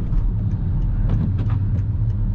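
A BMW X5 E70 3.0 SD diesel accelerating through city streets, a loud steady low engine rumble with road noise filling the cabin throughout.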